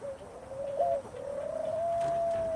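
Pigeons coo in Coimbra, Portugal: a soft, wavering tone that rises and then holds steady and fairly loud for a couple of seconds over a low background hiss, with no voices.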